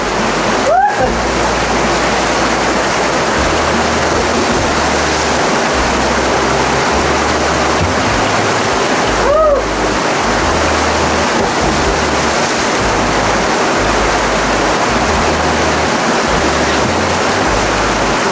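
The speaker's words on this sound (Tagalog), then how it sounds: "Dito sa baba, yung falls dito sa baba." A riverside waterfall roars with a strong current, a constant loud broadband rush of falling water filling the whole stretch, close and unbroken, with only faint low thumps underneath.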